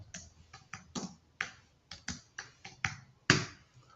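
Irregular clicks and taps of typing on a computer keyboard, a dozen or so keystrokes at an uneven pace, close and quiet.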